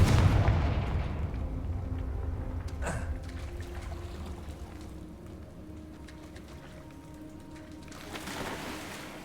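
A Confringo fire-blasting spell from Hogwarts Legacy bursts with a sharp blast near the start, then a dense, rumbling crackle lingers under a steady low game ambience, swelling again toward the end.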